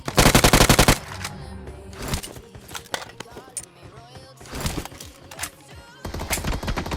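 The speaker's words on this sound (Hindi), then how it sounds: "वहाँ से ज़्यादा फायरिंग का साउंड आ रहा होता है" Gunfire in the battle-royale mobile game BGMI: a loud opening burst of rapid automatic fire, then scattered shots and short bursts, some nearer and some distant, ending in another sustained burst, with voices and game sounds mixed in.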